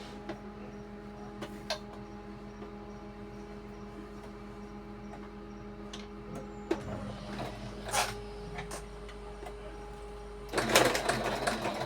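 A sewing machine runs a continuous stitch around a small fabric doll head, giving a steady mechanical whirr with light ticking and a louder burst near the end.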